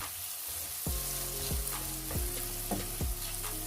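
Finely chopped medium onion frying in melted butter in a pan, a steady close sizzle with a few louder bursts as the pieces are stirred, no voices.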